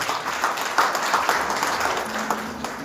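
An audience at the Sindhu Shiromani Samman 2026 award ceremony in the Sindhu Mahal in Udaipur applauds, giving a steady, moderately loud wash of clapping from many hands throughout.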